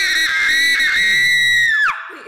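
A person lets out a loud, sustained high-pitched scream lasting about two seconds, held steady and then sliding down sharply at the end, close and alone without talk.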